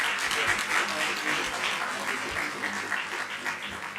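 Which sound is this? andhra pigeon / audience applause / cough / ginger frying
audience applause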